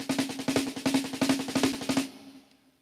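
Drum practice of doubles starting and ending with a single stroke: about a dozen crisp, evenly spaced strokes in a steady pulse with a ringing tone underneath, stopping abruptly and leaving a short fading ring.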